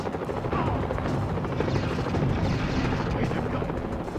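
Helicopter in a Mission: Impossible video game, a dense continuous rotor and engine roar, loud and steady throughout with a voice mixed into the noise.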